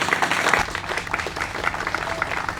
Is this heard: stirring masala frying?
no